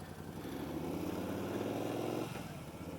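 A 1999 Moto Guzzi California V11EV motorcycle riding along a road, its engine droning loud and close as it pulls steadily then eases off near the end, with no speech.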